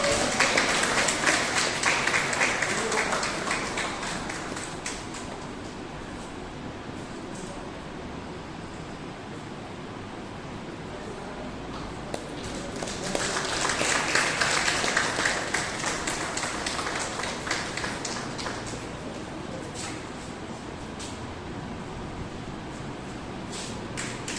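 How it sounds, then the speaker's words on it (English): Applause from a school Founder's and Parents' Day audience carries on steadily for about twenty-four seconds, fairly loud and broad, swelling again midway before easing off. "Please, let's have the applause."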